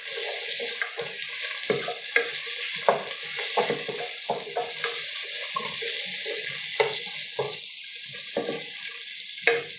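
Sliced onions frying in a pan as the base for a fish curry, a steady loud sizzle broken by frequent stirring scrapes and clatters, close up, with no voices.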